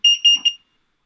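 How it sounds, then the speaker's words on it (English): A carbon monoxide alarm gives three quick, shrill electronic beeps in a row, loud and close, then falls silent. "hopefully you figured out that's a carbon monoxide alarm"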